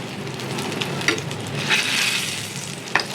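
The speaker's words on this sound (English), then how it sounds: "You can see it's already fried, shallow fried." Hilsa fish shallow frying in a pan, giving a steady close sizzle and hiss with a few sharp clicks and spatters over about three seconds, no talking.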